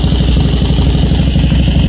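A 1928 Harley Davidson JD motorcycle with external valves, about 96 years old and recently restarted after years, idling close by with an even, steady low-pitched thumping and light mechanical clatter.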